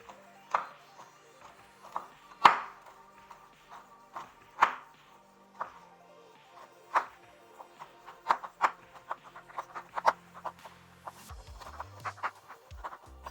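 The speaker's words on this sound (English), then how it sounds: "What we're going to do is just finely chop." Knife finely chopping 70% dark chocolate on a board, a series of crisp irregular cuts, sparse at first then quickening into rapid taps, close and clear with no talking.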